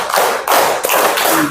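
A group of children in a classroom clap together in quick, crowded bursts, the claps blurring into a continuous rattle with a couple of stronger accents, loud and near.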